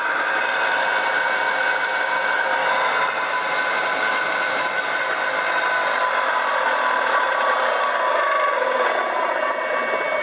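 A CMG electric motor with a noisy bearing runs steadily, giving a constant loud whine and whirring drone with a slight gritty roughness, close and continuous with no speech.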